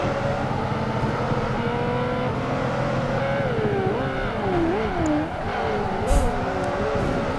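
Race cars roar through a Project Gotham Racing 2 replay on Xbox, loud, close engines revving with rising and falling pitch as they accelerate and shift, a continuous motorsport drone with a brief thump near the end.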